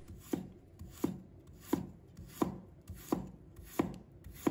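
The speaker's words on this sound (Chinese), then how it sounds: "把它切成片。" A knife slices through fresh ginger on a cutting board in a home kitchen, with seven evenly spaced chops at a steady rhythm, each one crisp and close against quiet background.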